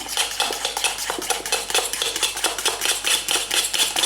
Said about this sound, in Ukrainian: Далі гарно збиваємо.